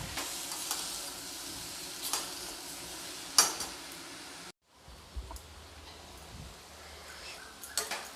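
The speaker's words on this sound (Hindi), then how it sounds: "अब मैं इन सभी चीज़ों को अच्छी तरीके से चलाते हुए मिला लूँगी मैं" A spoon stirs and mixes spices in a pan for a brinjal and pea bharta, with soft sizzling and occasional clinks of utensil against cookware, quiet and close, including a brief pause.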